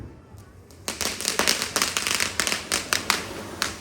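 A dense string of Diwali firecrackers bursts in rapid, uneven succession, crackling loudly and continuously for several seconds after a brief quieter start.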